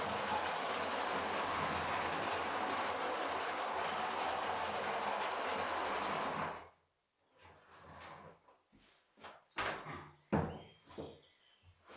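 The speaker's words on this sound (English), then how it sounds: "There we are, there's our train on our track" A Lego 7735 electric goods train runs steadily on its track for about six seconds, a continuous whirring rumble that cuts off abruptly, followed by scattered clicks and knocks.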